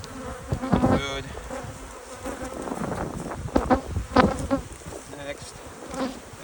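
A loud, dense buzz of agitated honey bees swarming around an open hive during requeening, with wings droning continuously up close and pitches rising and falling as individual bees pass the microphone.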